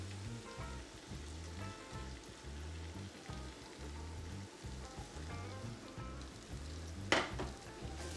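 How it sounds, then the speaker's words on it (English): Ground meat and vegetables sizzle steadily in a pan for a ragu bolognese, a soft, continuous frying hiss with faint stirring scrapes and one brief sharp clatter near the end. "Cooking for a while the meat with veggies."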